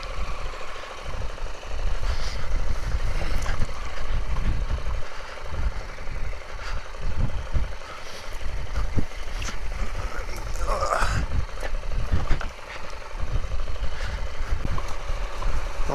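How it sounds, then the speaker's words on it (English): A tractor engine running while towing a KTM 890 Adventure motorcycle, a low, steady rumbling idle with scattered knocks and clunks across the clip, heard alongside occasional voices. "Well, I'm certainly glad to have a tractor."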